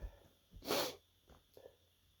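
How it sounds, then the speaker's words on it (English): A single quiet, close sneeze with a sharp breathy burst, preceded by a short inhale and followed by faint snorts and breaths. "I gotta sneeze."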